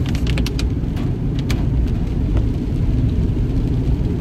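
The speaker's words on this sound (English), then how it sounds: "Can you guys hear the rain sound?" Steady rain pours outdoors as a dense, even wash that carries on without a break, with a few faint taps rising through the hiss.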